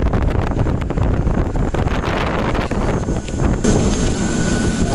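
Strong roaring blast of air from a small aircraft's jet turbine at an airport, loud and continuous with buffeting gusts against the microphone, no voices.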